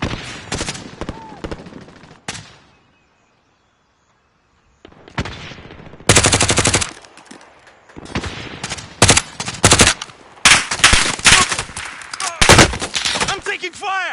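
Bursts of automatic gunfire from a PS4 shooter game, loud and close, come in clustered volleys separated by short pauses and one stretch of near silence.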